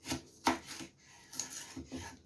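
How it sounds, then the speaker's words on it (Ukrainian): Firm, juicy rhubarb stalks are sliced into small pieces with a knife, giving several crisp, close cutting strokes in an uneven rhythm with short pauses between them. "Нарізаю його на невеличкі шматочки і засипаю його цукром."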